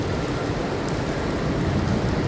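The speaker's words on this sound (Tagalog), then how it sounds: "ito pala ang pinakamalakas na ulan ngayong araw" Heavy rain pours down during a stormy day, a dense, steady broadband hiss that fills the whole clip loudly and evenly with no voices.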